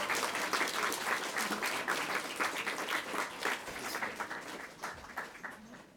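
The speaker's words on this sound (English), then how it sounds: "Come on up here and accept your Eddie Award this year." An audience applauds award winners at an Eddie Award ceremony, with many hands clapping densely and steadily close by, the sound easing slightly toward the end with no speech over it.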